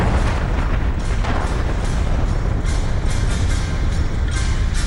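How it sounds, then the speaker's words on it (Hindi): A massive explosion from a suicide bomber's Humvee at a police headquarters, a loud, dense, sustained roaring boom that fills the entire stretch without letting up, with no talking. "एक जोरदार धमाके के साथ पूरा का पूरा पुलिस हेडक्वार्टर ही आग के गोले में तब्दील हो जाता है।"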